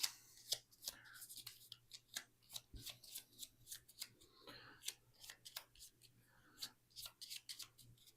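Shuffling a deck of cards for a solo board game of The Anarchy: repeated crisp riffling and snapping bursts in quick succession, close and fairly quiet, with soft speech in between.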